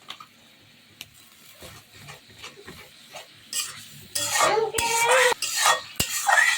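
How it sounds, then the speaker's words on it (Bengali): Spices with chilli and ginger paste being stirred and fried in a pot, starting with quiet scraping and clinks, then building to loud, close metallic stirring and sizzling bursts in the second half, with no talk. "মশলাগুলো ভালো মতন কষিয়ে নিব।"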